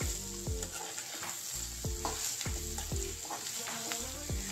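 Green chillies stirred into a sizzling frying mixture in a pan for red chilli dosa with potato masala, a spoon scraping in repeated strokes over steady close frying hiss, no talking.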